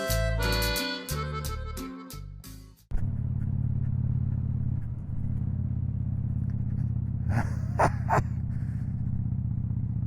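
Dog barking near a passing motorcycle: a run of staccato barks and clatter at the start, then a loud, steady motorcycle engine rumble close by, with a couple of short barks or yelps late on.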